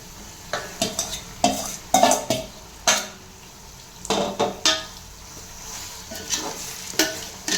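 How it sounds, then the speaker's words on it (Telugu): Chicken added to browned onions is stirred in a hot pan for chicken pulao, with a spatula repeatedly scraping and clanking against the metal over a steady sizzle, loud and close. "ఇప్పుడు ఉల్లిపాయలు బ్రౌన్ కలర్ వచ్చినాక మనం కలిపి పెట్టుకున్న చికెను చికెను వేసుకోవాలి"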